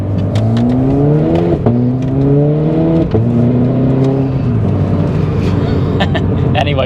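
Modified Renault Clio RS hot hatch, 240bhp with a tune and aftermarket exhaust, pulling hard through gears while driving, engine note rising then dropping at each upshift, loud and close from inside the car.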